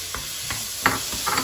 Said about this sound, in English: And now we can let this simmer for 2 to 3 minutes.